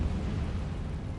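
An Incendio fire spell cast in Hogwarts Legacy bursts out as a short, loud, whooshing blast of flame, a dense roaring eruption that fills the brief moment with no voice over it.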